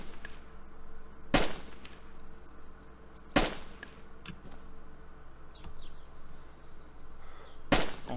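Three sharp, isolated pistol shots crack out several seconds apart in a video game gunfight, standing out loudly against a steady low background hum with no talking.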